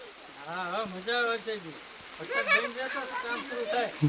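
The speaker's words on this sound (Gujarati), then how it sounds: "વરસાદ શરૂ થઈ ગયો છે" Steady rain hisses outdoors during work on festival decorations, a soft continuous wash of drops running beneath people talking close by.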